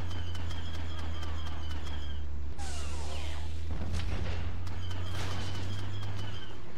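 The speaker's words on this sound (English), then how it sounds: "I'm just throwing these grenades randomly." Grenades explode on Mos Eisley in a modded Star Wars Battlefront 2 battle, with two sharp booms a second apart standing out over a steady low hum and scattered distant gunfire ticks.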